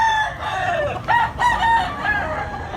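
Yellow-legged stag rooster crowing close by, a loud drawn-out crow with a wavering, breaking pitch, followed by short clucking calls.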